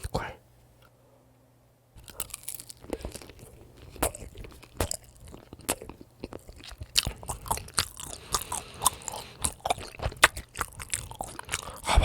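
Crunchy kiri mochi is bitten and chewed up close, a quiet start giving way to loud, irregular crackling crunches that continue steadily to the end.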